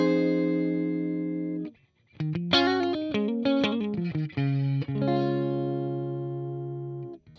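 An electric guitar plays through a Peavey Classic 20 amp on the clean channel with no reverb, a sustained chord, a short gap, then a run of plucked notes and another long ringing chord, close and alone.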